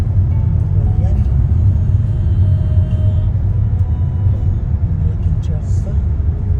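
A large truck rumbles along a road, heard from inside a moving vehicle as a steady, loud low drone and engine hum with faint higher noises above it and no speech.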